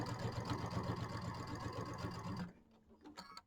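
A sewing machine stitches quilt seams in a steady, rapid mechanical run at close range for about two and a half seconds, then stops, leaving a few faint clicks and handling sounds.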